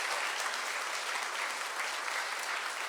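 Steady, dense applause fills a church as a congregation welcomes a visiting Latin American team, many hands clapping evenly and continuously at close range with no pauses.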